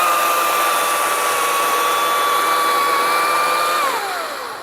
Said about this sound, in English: I'm keeping the saw moving.